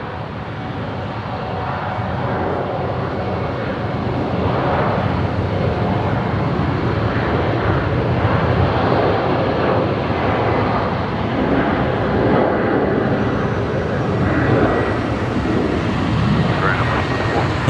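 An airplane departs from runway 01 right at Brisbane Airport, its engine roar swelling and holding loud and broad over the whole stretch, with people talking nearby.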